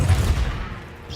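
Incendio fire spell cast in a Hogwarts Legacy duel: a brief loud whooshing burst with low rumble that quickly decays into a fading hiss.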